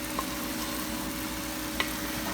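Hamburger with peppers, garlic and onions frying in a pan, a steady low sizzle throughout with a couple of faint clinks of a utensil stirring.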